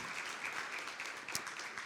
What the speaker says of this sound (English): Let's make another applause.